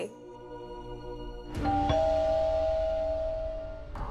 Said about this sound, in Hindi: एक डोरबेल की आवाज आई तभी पूछा।